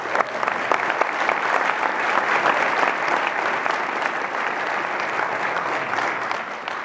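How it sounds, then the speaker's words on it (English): A crowd claps steadily and warmly, sustained applause filling the room for several seconds without letting up. "So, a round of applause."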